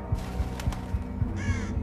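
A crow caws in the Thief video game, a short call rising over a rumbling game ambience with rhythmic low thuds, heard without talk.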